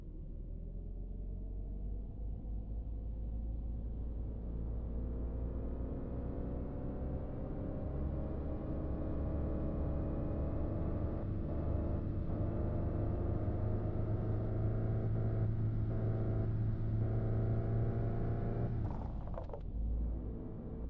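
A car engine in the driving game Driving Life hums with a steady low rumble and layered harmonic drone, holding constant for about twenty seconds before a brief dip near the end, with no voices.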